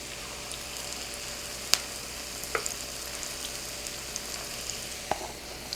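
Pakora batter fritters, much like onion rings, frying in hot oil, giving a steady close sizzle and crackle with a few sharp pops and no voices.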